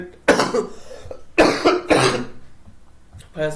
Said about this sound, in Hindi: थोड़ा सा खांसी आते रहता है हल्का फुल्का